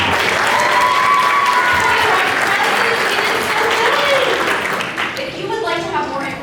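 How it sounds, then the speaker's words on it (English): At a Miss Owasso pageant, a large crowd applauds loudly and continuously. Cheering voices rise over the clapping before it thins out near the end. "Let's give them a big round of applause."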